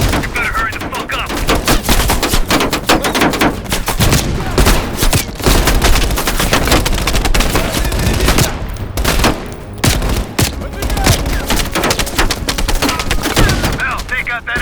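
Sustained automatic machine gun fire from a Call of Duty: Black Ops Cold War battle, loud, rapid bursts with overlapping gunshots and a few brief pauses, voices shouting faintly in the mix.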